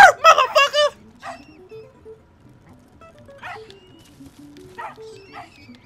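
In The Adventures of Tintin: The Secret of the Unicorn video game, the dog Snowy gives a quick loud burst of barks and yips. Fainter game sound effects and music chime in after it.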